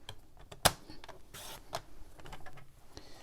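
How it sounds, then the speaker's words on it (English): Paper being trimmed along a score line on a card project layered with silver foil trees: a sharp single snip near the start, then a brief rasping cut and a few soft taps, quiet and close. "I'm just going to cut it right on the score line"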